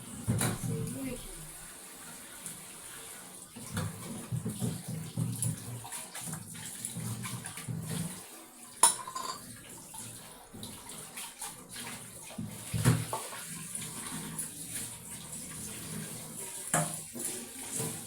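Tap water runs steadily into a sink while dishes are washed at night, a continuous splashing wash with occasional clinks, and a voice talks over it.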